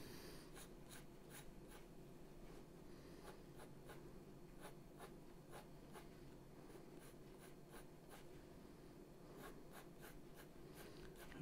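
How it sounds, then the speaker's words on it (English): A pencil draws strands of hair on paper with quick, light, scratchy strokes repeating in irregular bursts, very close but faint, in an otherwise quiet room. "the strands of hair that we can create with our pencil strokes."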